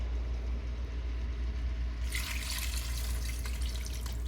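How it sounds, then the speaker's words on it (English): Water poured into a cooking pot over seasoned chicken pieces for a Jamaican curry, a sudden steady splashing rush that starts midway and continues loudly to the end. "we're gonna cover this with some water."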